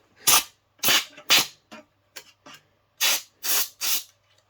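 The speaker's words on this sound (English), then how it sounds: "Just short compressions on the compressed air." Compressed air can sprayed into the opened interior of a PS5 console during cleaning, in seven short hissing bursts of varying length, close and loud with brief silences between.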